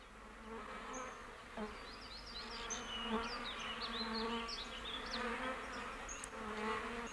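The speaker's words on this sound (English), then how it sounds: "This is a local giant honeybee, one of the largest wild bees in the world." Swarm of giant honeybees, Apis dorsata, droning in a continuous buzz with many overlapping wingbeats and rising, falling whines, steady and fairly close throughout.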